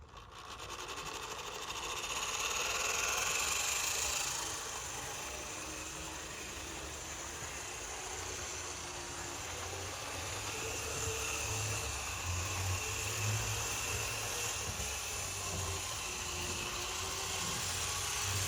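A vintage Bachmann Amtrak Metroliner HO model train set running on its track, giving a faint, steady motor whir with slightly choppy rumbling that swells and eases as the set moves.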